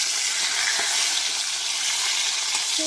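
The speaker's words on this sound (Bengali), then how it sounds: "এই যে মাছটা ভেজে নিচ্ছি" Fish frying in a pan, a loud dense continuous sizzle and crackle of hot oil filling the whole stretch without pause.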